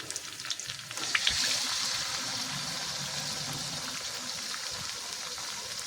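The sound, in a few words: eggs added to fried onions, frying in a pan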